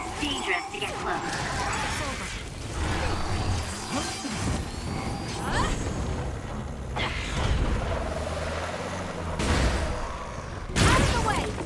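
Enemy explosion attacks in the video game Scarlet Nexus, repeated crashing blasts and whooshes in a busy combat mix, with game characters talking over the action.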